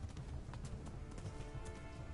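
A horse's hooves clip-clop steadily in Kingdom Come: Deliverance as the rider travels along a stream, an even, rhythmic trot at moderate distance and fairly low level.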